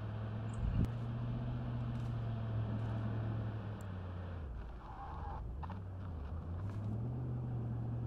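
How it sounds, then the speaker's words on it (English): A military vehicle engine idles steadily in the tactical shooter Squad during urban combat in Fallujah, a low droning hum with slight pitch dips, close and continuous, with faint clicks over it. "Switch your engine off."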